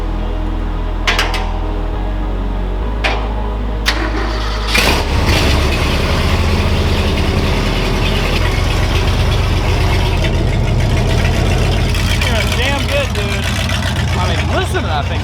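A cold 1971 crew cab truck with a fuel-injected engine idles with a loud, steady low rumble after a few clanks, and someone speaks over it.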